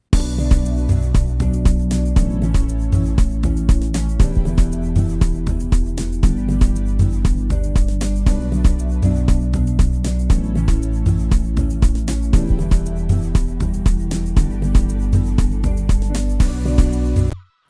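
Amapiano beat built in FL Studio, a dense, steady loop of deep bass, drums and layered synth chords playing continuously at full level for the whole stretch, with no talking.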